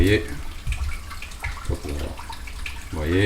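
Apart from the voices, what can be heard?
aquarium being filled with reverse osmosis water from hose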